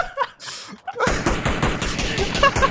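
Rapid automatic gunfire with heavy recoil in PUBG, a dense, loud string of shots that starts abruptly after a brief quieter stretch and runs steadily to the end.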